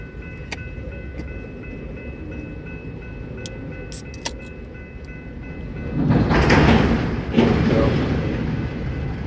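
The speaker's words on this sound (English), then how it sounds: "I just heard BNSF blowing to go across the diamond." BNSF freight train near a rail diamond crossing, a low rumble under scattered metallic clicks and squeals, then a burst of louder clattering and banging as cars roll across, with faint voices in the background.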